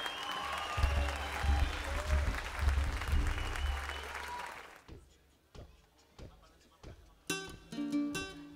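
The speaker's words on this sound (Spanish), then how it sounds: "Aplauso para Maura González en el baile" Applause for dancer Maura González at the Cuexcomate festival, with Sonex playing: loud clapping rides over booming bass for about five seconds, then breaks into scattered claps and stray sounds before a sustained tone returns.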